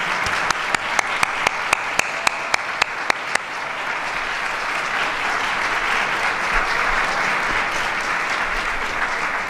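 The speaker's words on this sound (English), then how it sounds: "Join me in giving them a round of applause." Audience applause for the Good Food Fund grant recipients at a community development grant announcement in Chicago, opening with a few loud individual claps before a steady, dense wash of clapping from a large indoor crowd.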